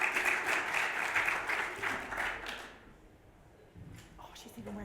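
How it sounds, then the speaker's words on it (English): Conference audience at a cybersecurity event applauds three speakers walking on stage, a warm burst of clapping for about three seconds that fades out, followed by quieter room sounds and a voice starting to talk. "Can we have a warm round of applause for these three lovely ladies?"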